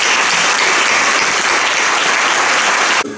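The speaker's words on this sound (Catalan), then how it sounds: "Per això vull dedicar-vos este carinyós aplaudiment." At the 2016 Falles presentation event in Benicarló, an audience claps loudly in a thick, even burst for about three seconds before it cuts off abruptly.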